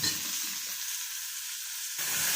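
Ivy gourd fries in a pan with mustard seeds, giving a steady, fairly quiet hiss that thins briefly and then swells again near the end.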